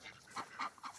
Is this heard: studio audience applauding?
no